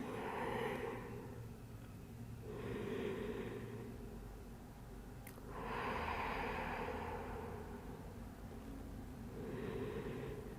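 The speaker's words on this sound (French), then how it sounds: "on prend 3 respirations" Slow, deep breaths during a pilates session rise and fall in soft airy swells about every three seconds, close and quiet, around four breaths in all, without speech.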